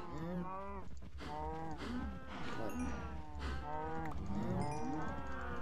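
Calves moo repeatedly in Minecraft, several overlapping drawn-out lowing calls filling the stretch, loud and close, with no talk over them.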